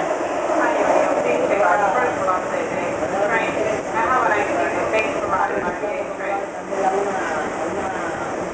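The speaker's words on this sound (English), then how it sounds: "Another train passing by." A train passes on a rainy day in a steady, loud rumble with a rattling clatter running through it, and a voice talks over it.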